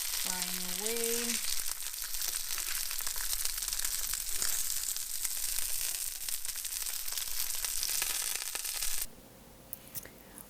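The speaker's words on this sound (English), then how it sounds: "they are sizzling here" Fish sticks frying in a pan give a steady, hissing sizzle that runs at moderate level for several seconds before cutting off abruptly near the end.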